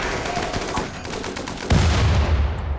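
Colonists in RimWorld concentrating gunfire on a single target, rapid overlapping shots in dense bursts followed by a heavy low blast, loud and close.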